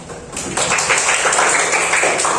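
Children clapping together in a school classroom, a brief lull and then a sudden, dense burst of steady applause that keeps going, loud and close.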